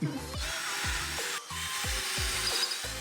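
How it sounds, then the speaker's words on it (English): A power drill whines steadily while drilling through a wall, low thuds repeating at a regular pace, close and fairly loud, with no voices. "Are you excited to drill holes in walls?"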